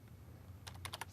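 Code typed on a computer keyboard: soft key clicks, then a quick close cluster of five or six sharper keystrokes toward the end, quiet over a low room hum.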